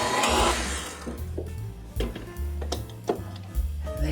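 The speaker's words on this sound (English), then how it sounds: "And whisk that to stiff peaks." An electric mixer whips meringue made with powdered sugar and vanilla extract to stiff peaks for an angel food cake, a steady loud motor whir with beaters rattling in the bowl and the pitch shifting in short surges.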